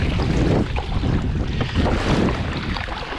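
Waves breaking over a shallow shelf at a coastal fishing spot, heard from a kayak on an incoming tide; loud, close, continuous rushing surf with surging washes and wind buffeting the microphone.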